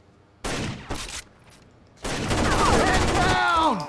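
Shotgun blasts and gunfire in Rainbow Six Vegas 2 during a Terrorist Hunt on the Theatre map: two short loud bursts, a pause, then a sustained burst of noisy firing with in-game voices over it.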